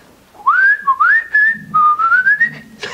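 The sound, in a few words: person whistling an imitation of chaffinch song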